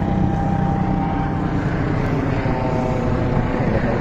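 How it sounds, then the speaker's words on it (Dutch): A helicopter passes over the Zandvoort race circuit during a Formula 1 weekend, a continuous loud rotor and engine drone with a faint whine, steady throughout and with no talking. "Helikopter!"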